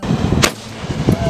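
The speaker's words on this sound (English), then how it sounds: "he didn't just get normal Roman candles. He decided to buy ones that blew up at the end." Roman candle fireworks that blow up at the end pop outdoors in two sharp, loud bangs about half a second apart over steady background noise.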